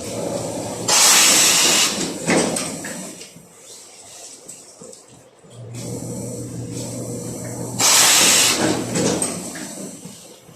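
A steam iron presses a new shemagh, giving two loud bursts of hissing steam several seconds apart, with softer sliding and handling sounds between them and a low hum underneath.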